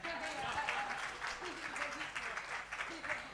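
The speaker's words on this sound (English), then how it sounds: "A big round of applause for him." An audience at a memorial award ceremony applauds, a soft, distant wash of many hands clapping continuously while a voice speaks over it.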